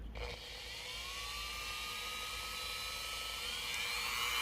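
A Dremel 3000 rotary tool runs at speed setting 2 with a steady high-pitched electric whine and whir that rises slightly in pitch, holding close and even for several seconds with no talking.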